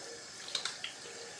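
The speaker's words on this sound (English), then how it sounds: "Get my hands wet with some warm water." Warm water runs from a bathroom tap while hands are wetted for washing with a soap bar, a soft, steady hiss with a few small splashes, fairly faint.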